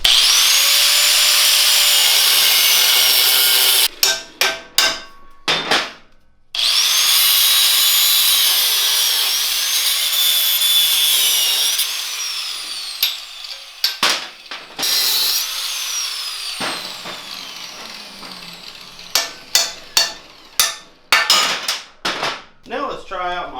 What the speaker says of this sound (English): I gotta cut these original foot pegs completely off